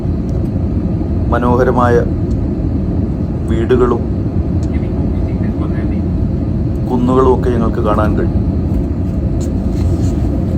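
Constant low roar of an airliner cabin in flight over China near Hangzhou, a steady rumble and hiss running under a voice that talks in short bursts.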